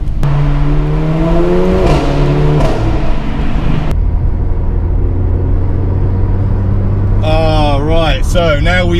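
A Mercedes A45 AMG accelerates hard on a mountain road; its engine note climbs through the revs, drops sharply at a shift, then settles into a steady drone before rising again in strained, wavering pulls.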